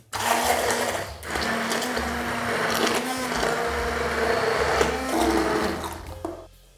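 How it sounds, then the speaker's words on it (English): A blender blitzes homemade vegetable soup until smooth, a loud, steady whirring and churning motor that runs for several seconds close by with no talk, then stops. "Now I'm going to blitz this until it's nice and smooth."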